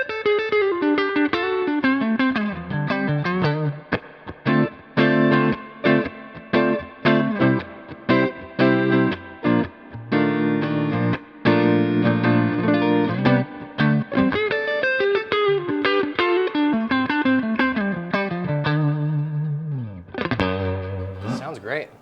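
Electric guitar through a Magnatone Twilighter amp with tremolo, vibrato and reverb, played loud and continuously as rich, wavering chords and lines with a pulsing, shimmering throb, ending on a brief pitch swoop.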